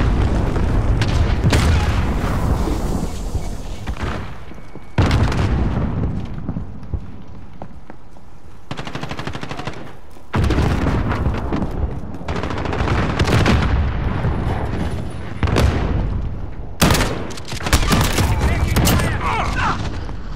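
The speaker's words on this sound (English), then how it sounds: "Allied crew cruise missile launched." Heavy, booming cruise missile explosions in Call of Duty: Modern Warfare, loud and continuous with gunfire and rumbling blasts filling most of the stretch, broken by a few brief lulls, with game voice callouts mixed in.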